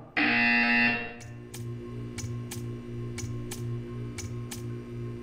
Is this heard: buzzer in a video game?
yes